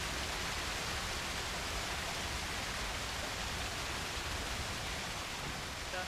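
Steady broadband roar of a waterfall at the mouth of a cascade, a continuous dense rush of falling water heard alone with no break.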